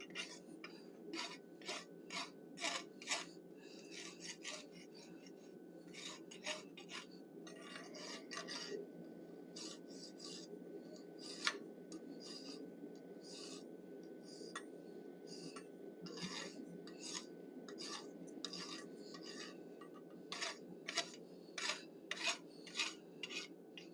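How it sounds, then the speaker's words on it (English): A hot rasp dresses the horns of a forged bison head, giving repeated bursts of scraping strokes in short rhythmic runs over a steady low background hum. "I'm using a hot rasp to dress the horns a little bit."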